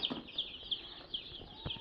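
Two-day-old broiler chicks chirp in a small farm brood, a bright, repeated peeping at an even pace, close and fairly clear with no talking.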